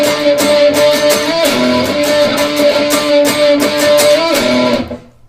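An electric guitar plays the short, bright chorus turnaround riff, with strummed chords and a sustained ringing note, cutting off abruptly at the end.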